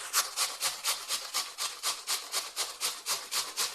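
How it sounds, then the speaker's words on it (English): Peeled potatoes are grated with steady, rhythmic rasping strokes, about four per second, close and fairly quiet, with no voices. "So we'll start off by grating our potatoes."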